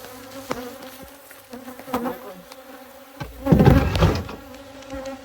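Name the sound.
honey bees buzzing around hive boxes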